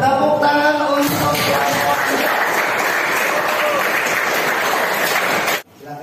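A classroom of students bursts into sustained applause for a presenting group, dense clapping with a few voices mixed in, steady and loud for about five seconds before cutting off abruptly.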